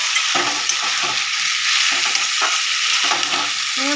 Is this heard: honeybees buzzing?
no